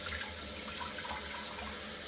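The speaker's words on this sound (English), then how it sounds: "to turn on my faucet" Kitchen faucet running steadily into a sink, a continuous low splashing water stream with no talking, heard while rinsing during duck preparation.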